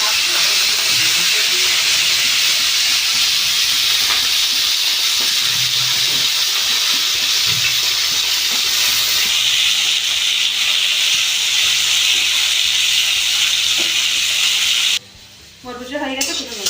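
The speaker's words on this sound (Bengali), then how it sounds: "বরবটিটা ভেজে নেবো।" Yardlong beans fry loudly in hot oil for a mixed vegetable dish, a dense, continuous hissing sizzle with occasional stirring, which cuts off abruptly near the end to a quieter, uneven sizzle.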